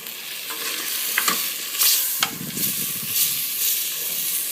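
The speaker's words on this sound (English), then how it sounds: "I'm gonna leave the tomato to cook with meat for at least 10 minutes in low heat" Fresh tomato and lamb hiss and crackle in a pan for a runner bean stew, with a steady close sizzle and several sharp scrapes of a stirring utensil, no talking.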